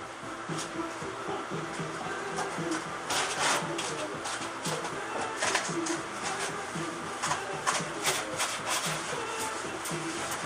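Abrasive scuffing of ABS plastic Jeep parts before painting: close, steady back-and-forth rubbing strokes that continue throughout, with a voice faintly present at times.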